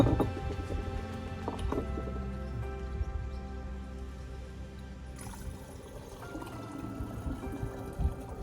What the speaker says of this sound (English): we're gonna measure out how much syrup we've got